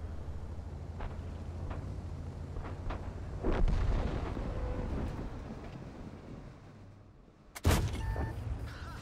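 Tank cannon fire in the World of Tanks video game, from a Leopard PTA match: a heavy booming shot rolls out midway, and a sharper blast cracks near the end, with faint distant thuds before them.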